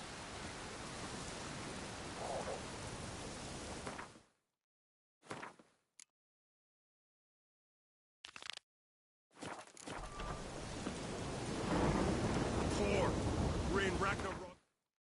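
Steady rain hisses with low thunder rumbles in a stormy swamp scene from The Witcher 3: Wild Hunt, heard in long bursts broken by sudden silent gaps.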